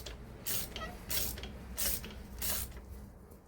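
Ratchet wrench working spark plugs out of a car engine during a home service, heard as four loud bursts of rapid clicking spaced about every 0.7 seconds, close up, with no talking.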